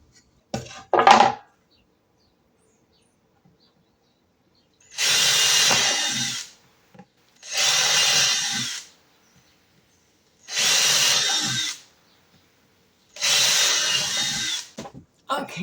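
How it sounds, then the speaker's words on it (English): A power drill bores holes for screws, four loud whirring bursts of a couple of seconds each separated by silent pauses, preceded by a short clatter. "I'm going to drill a hole for each one"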